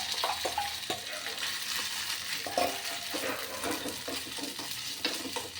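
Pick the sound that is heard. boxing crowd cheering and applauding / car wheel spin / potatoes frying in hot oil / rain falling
potatoes frying in hot oil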